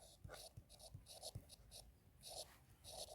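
Pen strokes on paper while a definition is written during a Class 9 physics lesson on motion, soft scratchy bursts repeating in short clusters, close and faint, with quiet breathy sounds between.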